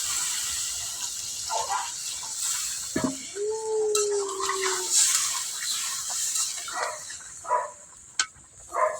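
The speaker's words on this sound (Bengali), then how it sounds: "তো এখন আমি ঝোল দিয়ে দিব তরকারি।" Broth is poured into a fish and sponge gourd curry cooking in a pot, giving uneven splashing and gurgling bursts close by, with a brief tonal squeal early on.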